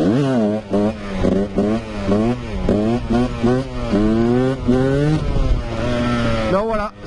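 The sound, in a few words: Husqvarna 125 motorcycle engine revving during a wheelie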